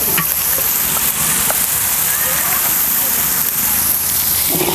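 Tomato, coconut and mutton masala sautéing in a pot over a village wood fire, a loud continuous sizzle and crackle with stirring scrapes throughout.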